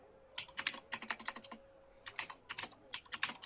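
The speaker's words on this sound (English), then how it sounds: "Typing is loud." Typing on a computer keyboard, heard close up as quick clusters of sharp clicky keystrokes in several bursts separated by short pauses, fairly crisp against a quiet background.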